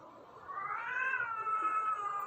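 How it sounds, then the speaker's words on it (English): Unhappy cat letting out one long, drawn-out, rising and falling meow, fairly faint but clear against a quiet room. "the cat's not very happy to be here today"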